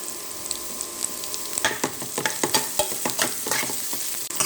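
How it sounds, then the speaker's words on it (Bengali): Peas and carrots are stirred in hot oil, a spatula scraping and knocking the pan in quick irregular strokes over a close, steady sizzle. "আমি মটরশুঁটি আর গাজরটাকে নেড়ে চেড়ে তেলের মধ্যে ভালোভাবে ভেজে নিচ্ছি"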